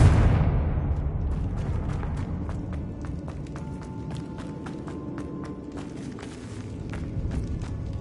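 A Confringo fire spell bursts in Hogwarts Legacy with a heavy low boom at the start, followed by scattered sharp clicks and patter like footsteps over a steady rumble.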